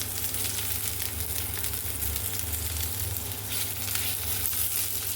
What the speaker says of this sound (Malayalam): ഉന്നക്കായ നെയ്യിട്ടാണ് ചെയ്യുന്നത്